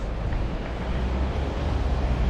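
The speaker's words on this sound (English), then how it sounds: "It's a very windy day" Wind roars steadily against the microphone on a walk from Sliema to St Julian's, Malta, a constant low rumble with no break and no voices.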